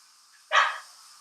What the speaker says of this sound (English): I don't know why my dog keeps on barking